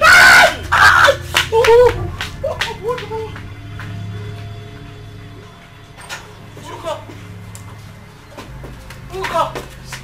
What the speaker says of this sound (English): I heard a voice. A scream. Who screamed?